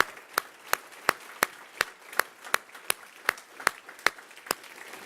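Sparse, evenly spaced hand claps from an audience at a business event, each sharp clap standing alone with brief pauses between, moderately close and fairly quiet, no talking.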